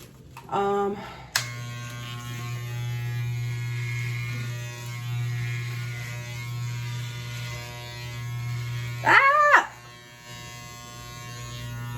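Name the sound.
electric shaver shaving a head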